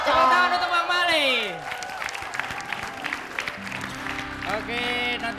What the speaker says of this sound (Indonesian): Tepuk tangan untuk Bang Mali.